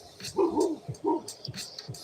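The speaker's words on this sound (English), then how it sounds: "You heard the dog?" A dog barks a few times in short, close yips and woofs against a quiet room background.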